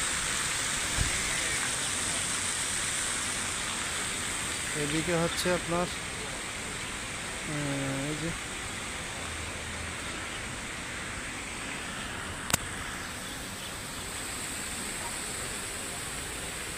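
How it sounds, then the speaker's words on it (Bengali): A water fountain beside a large city drain near Masjid Jamek in Kuala Lumpur gives off a steady broadband rush of splashing water, constant throughout, while someone talks over it and a brief tonal sound rises midway. "কত সুন্দর একটা ঝর্ণা করছে।"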